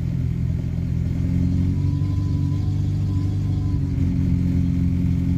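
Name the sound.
Renault 10 car engine idling on choke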